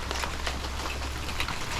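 Steady rain falls near an old barn and wood shed, a dense, even hiss of drops on surfaces continuing without pause.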